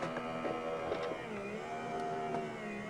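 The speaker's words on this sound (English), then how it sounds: "I will just run this through the die cutting machine." A die cutting machine for art journal crafting runs steadily, a low whirring mechanical hum with faint clicks, close by and without talk.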